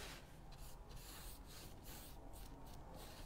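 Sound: rubbing glaze onto stencilled angel wings

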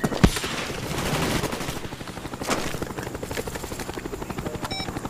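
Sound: Cobra attack helicopter killstreak in Call of Duty Black Ops video game

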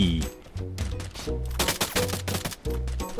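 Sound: gunfire in a battle royale video game (Free Fire)

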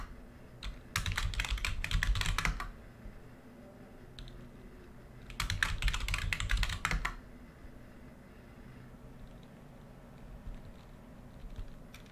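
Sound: typing password on a computer keyboard

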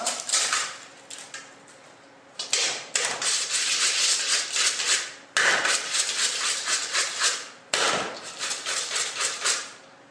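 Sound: softening margarine for streusel topping in a bowl

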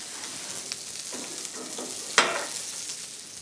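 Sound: John Dory fish grilling in a pan

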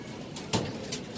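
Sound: pigeons

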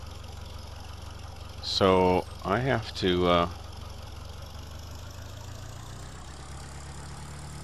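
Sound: tractor engine idling in video game Farming Simulator 2013

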